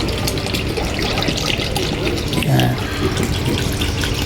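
One litre of vinegar poured into a pan of hot oil for cooking bagoong alamang, a steady splashing liquid pour under a brief spoken word.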